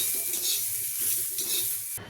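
Pigeon pea seeds roast on an iron griddle, giving a steady close-up sizzle with a soft scraping stir running throughout, until a brief change near the end.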